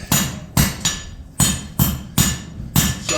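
Hammer blows on hot metal while a Dutch oven lid lifter is forged, about eight sharp ringing strikes in an uneven pattern of paired hits, loud and close with no talk.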